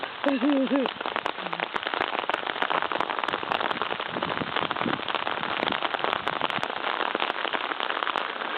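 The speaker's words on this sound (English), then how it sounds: "Stupid rain." Steady rain pours down across the whole stretch, a dense patter on surfaces outdoors, with a brief wavering voice-like sound near the start.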